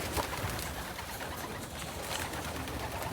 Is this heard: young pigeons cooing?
yes